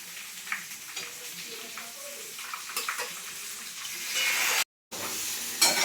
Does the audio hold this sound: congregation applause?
no